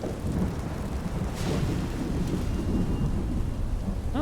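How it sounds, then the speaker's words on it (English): Steady rain pours with rolling thunder in the open-world fantasy game Skyrim, a dense continuous wash of downpour with a deep rumble swelling around the middle, heard alone without voices. "Still raining."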